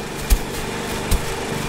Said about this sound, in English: Oh no, I hear a tractor coming.